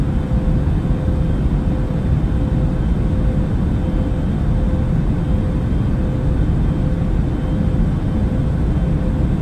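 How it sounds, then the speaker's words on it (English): Airplane taking off on a flight to Italy and Japan, a loud, steady engine roar with a constant low rumble and a faint high whine, heard continuously from inside the cabin without talking. "We are now taking off."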